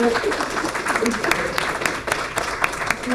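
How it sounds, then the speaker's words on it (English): Festival audience applauding its sponsors: a short burst of scattered hand claps of moderate loudness, with a voice faintly audible underneath. "So round of applause for the people who give us money."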